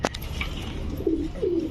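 Pigeons of fancy breeds coo in two soft, low, rolling calls near the microphone, preceded by a brief rustle or flap of wings, with no talking.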